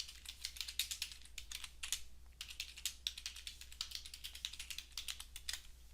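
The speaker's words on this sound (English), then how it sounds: "Now that I'm on the left side, I'll type in my title in all caps" Rapid typing on a computer keyboard, entering a title in all caps, with irregular bursts of close, crisp key clicks and a brief pause midway, no voices.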